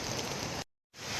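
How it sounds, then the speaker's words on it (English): Light rain falling along the Appalachian Trail during a thru-hike, a steady broadband hiss of drops that cuts out briefly to silence midway and then resumes, with no voices. "The rain has slowed down significantly."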